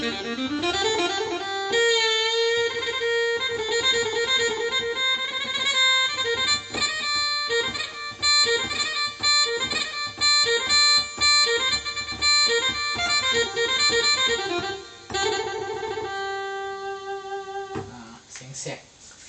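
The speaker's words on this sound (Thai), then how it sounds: "เสียงซ้อครับ" A Korg TR keyboard plays a Thai saw fiddle voice in a steady melody of sustained, gliding notes, loud and close, with no talking over it.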